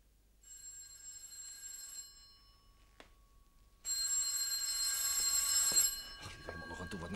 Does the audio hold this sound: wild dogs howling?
no